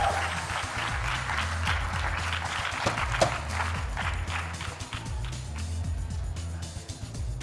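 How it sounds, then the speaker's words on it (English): Audience applause from a crowd, a moderate patter of clapping hands mixed with scattered sharp claps, steady over a low rumbling background. "A round of applause for the milk beverages."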